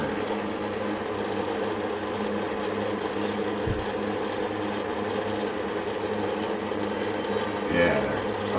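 A new small engine fitted to a concrete mixer runs at a steady, close, buzzing drone that holds even throughout, with only a brief knock near the end.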